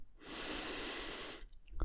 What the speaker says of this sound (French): Donc de nouveau, une grande respiration.